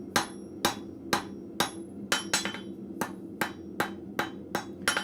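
A blacksmith hammers steel stock to taper one end, striking about ten sharp, ringing blows at a steady, even pace close by with no talk.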